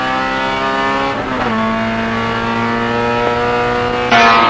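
Honda race cars in a NASA Honda Challenge championship race roar past on track, a loud sustained engine drone with shifting pitch, a gear change and a passing car near the end.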